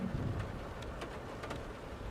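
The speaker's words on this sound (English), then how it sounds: "You can hear the rain hitting the roof, the metal roof there." Steady rain drums on a metal roof in the video game Roadcraft, a dense hiss with scattered sharper patters and a low rumble underneath, continuous and with no voices.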